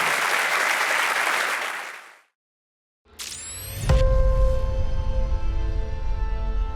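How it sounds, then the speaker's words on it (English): An audience at a Lotus Eletre live stream applauds Jensen Button with dense, loud clapping that cuts to silence, followed by a burst of swelling music with sustained tones and low rumble. "let's just give a big round of applause to Jensen Button"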